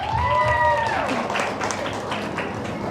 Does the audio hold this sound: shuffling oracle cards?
no